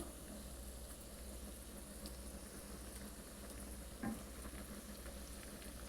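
Kerala pakka vada frying in hot oil, a soft steady sizzle and bubbling that runs through the whole stretch, with a small clink partway through and no talking.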